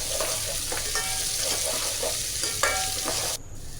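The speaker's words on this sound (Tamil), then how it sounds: "நல்லா கோல்டன் ஃப்ரீயாக நம்ம லோ ஃப்ளேம்லேயே வச்சு நம்ம தாளிப்பு வதக்கிக்கலாம்" Curry leaves and other tempering ingredients sauté steadily in oil over a low flame for a tomato bharta, a continuous close sizzle broken by a few utensil scrapes and stirring clinks, then dropping quieter near the end.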